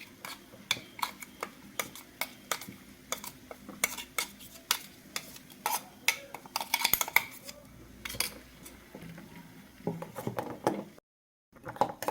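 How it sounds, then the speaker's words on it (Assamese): A paste being stirred in a bowl while making soap at home, giving a run of light, irregular scraping clicks and taps close by, with a brief silent gap near the end. "এক মিনিটমান এনেকৈ লৰোৱাৰ পিছতে"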